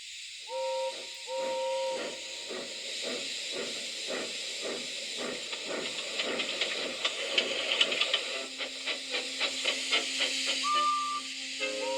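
Steady steam hissing from an engine with rhythmic chuffing bursts, punctuated by steam whistle toots at the start and end.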